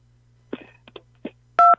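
Telephone keypad tones as a caller presses phone buttons during a call-in radio show; a strong steady two-tone beep ends the clip after a few faint clicks and muffled voice fragments over a low hum.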